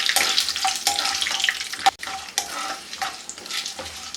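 Peanuts, chana dal, urad dal and curry leaves fry in oil on a low flame for lemon rice, with a steady sizzle broken by rhythmic scraping stirs of a spoon against the pan.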